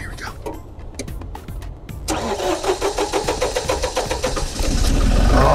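A toy tractor engine turns on after a few clicks and then runs with a steady, pulsing chug that builds slightly louder toward the end, heard close.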